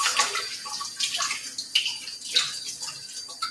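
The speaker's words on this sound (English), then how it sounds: "I'll just wash my sticky hands." A tap runs as sticky hands are washed at a kitchen sink during home pizza making, giving soft continuous splashing with irregular bursts of water hitting skin and basin, nearby and without talk.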